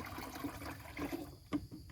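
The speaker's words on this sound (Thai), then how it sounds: "เราใส่ฝักบัวเลยนะครับ เป็นน้ำสดๆนะครับ ที่เราทำเอง เราใส่ให้เต็มบัวเลย" Homemade photosynthetic microbial water poured from a bottle into a watering can in a durian orchard, a short splashing, gurgling trickle with a brief louder slosh, close up and without talking.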